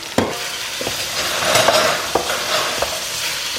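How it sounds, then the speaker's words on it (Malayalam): Sliced onions, four large ones, frying in hot coconut oil in a pan, with a steady close sizzle and a few sharp scrapes and clinks of a stirring spoon against the pan. "വെളിച്ചെണ്ണ ചൂടായതിന് ശേഷം സവോള, ഇപ്പോൾ ഇവിടെ ഞാൻ 4 സവോളയാട്ടോ എടുത്തിരിക്കുന്നത്."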